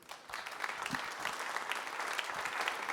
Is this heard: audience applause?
yes